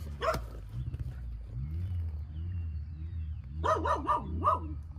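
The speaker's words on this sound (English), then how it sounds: "But there's a little bitty dog." A small dog barks in two bursts, one short yelp near the start and a quick string of three or four barks later, heard over the steady low idle of a Honda CRF100 dirt bike outdoors.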